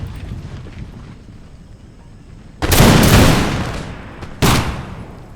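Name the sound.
infantry musket volley fire in a video game battle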